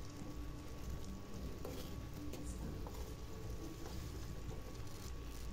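Amla simmering in sugar water in a pan is stirred gently, with soft scraping and a continuous low bubbling sizzle at a quiet, steady level and no talking.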